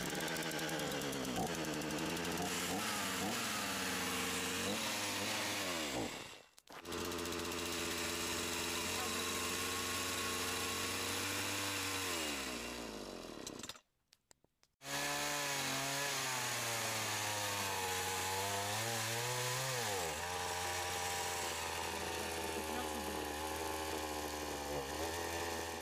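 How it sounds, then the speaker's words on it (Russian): A faulty chainsaw at a forest cabin, fitted with a new spark plug, roars loudly up close and revs unevenly, cutting out abruptly twice before catching and running again. "Бензопила у нас не заводится. Пилим. Заводится, но глохнет."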